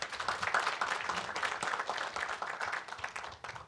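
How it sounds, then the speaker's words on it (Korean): An audience at a natural gas forum claps to welcome a professor, a steady wash of many hands at moderate loudness that continues evenly with no talk over it. "뜨거운 박수로 환영해 주시기 바랍니다"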